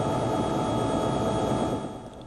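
Japanese military helicopters fly over the damaged Fukushima nuclear plant, a steady loud rotor and engine roar that fades slightly toward the end.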